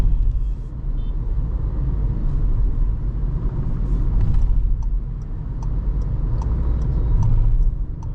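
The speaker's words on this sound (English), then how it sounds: "if you drive with this open, some wind noise is creeping into the cabin" Wind noise fills the cabin of a VW Taigun GT Line while it drives with an opening left open. It is a steady broadband rush over a low road rumble, with faint light ticks scattered through the later part.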